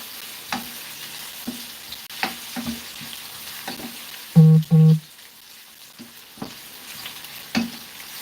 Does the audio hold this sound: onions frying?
yes